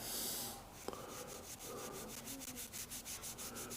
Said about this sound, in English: You just start rubbing this cold blue like that.